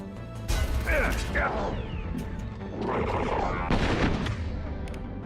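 Gunfire in the video game Mass Effect 2: a few sharp, loud shots mixed with mechanical clatter and impact crashes. They come in two bursts separated by a brief lull.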